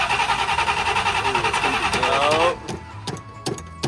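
An old carbureted monster truck engine cranks and catches with a loud, rhythmic churning roar, then sputters into rough idle with sharp pops while a voice briefly exclaims.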